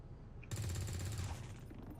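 Automatic gunfire in the strategy video game XCOM 2: after a brief lull, a loud, rapid burst of rattling shots runs steadily for over a second, then trails off into a faint echoing tail.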